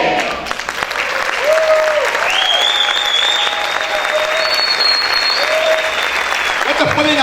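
A church congregation applauds in sustained, dense clapping, loud and close, while voices and tonal vocal calls sound over it.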